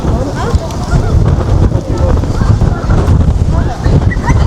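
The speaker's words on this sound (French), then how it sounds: "je sais pas si vous allez bien entendre avec le vent" Loud, blustery wind buffets the microphone, producing a rumbling, gusting roar that fills the whole stretch.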